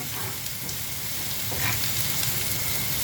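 Minced garlic fries in oil in a pan, a steady close sizzle and crackle that runs throughout with no speech.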